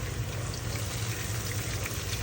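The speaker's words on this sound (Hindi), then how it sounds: "पानी ऐड कर दूँगी मैं" Water poured into a pan of palak aloo (spinach and potato) on the stove, a steady close splashing pour that runs for the full couple of seconds without a break.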